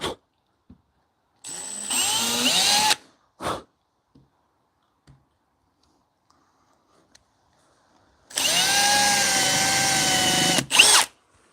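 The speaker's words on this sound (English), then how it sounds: "We're going to drill these holes, re-drill them for slat number 4 here." Two separate bursts of a power drill boring into a wooden bench slat, each a few seconds long, with quiet pauses and small clicks in between.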